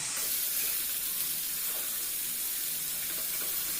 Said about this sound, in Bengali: এবারে ফ্রাইং প্যানে পনিরটাও সামান্য একটু লবণ দিয়ে লালচে করে ভেজে তুলে রাখবো